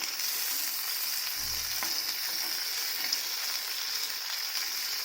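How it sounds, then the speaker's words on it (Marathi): Masala-stuffed okra roasts on a hot tava over a low gas flame, giving a steady soft sizzle and hiss throughout, with one brief low bump of a utensil partway through. "आता ह्या बारीक गॅसवर भाजून घ्यायचं"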